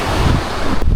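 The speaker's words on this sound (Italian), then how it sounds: "Purtroppo qui al lago è cominciato il vento" Lakeside wind pounds directly on the microphone, a loud steady low-frequency roar with a brief gust spike near the end, no talking.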